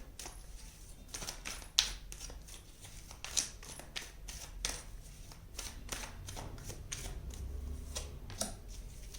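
Tarot cards drawn and shuffled by hand, giving soft repeated riffling and flicking sounds at close range with small taps, quiet and steady throughout.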